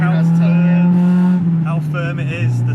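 A Honda Civic Type R EK9 with period-correct parts is driven with its engine droning at a steady, strong pitch that dips briefly and then holds. People talk over the engine noise.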